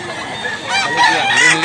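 A rooster at a market in South Cebu clucks briefly and then breaks into a loud, close crow, the call rising in strength toward the end.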